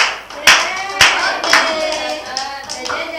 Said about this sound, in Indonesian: Benar sekali, beri tepuk tangan